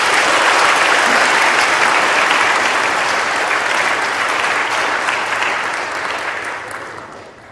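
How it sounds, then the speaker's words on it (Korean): Warm applause from a church congregation at an ordination service for elders, deacons and deaconesses, a loud, dense roar of clapping that holds steady and slowly fades toward the end, with no talking. "뜨거운 박수로 축하드립니다."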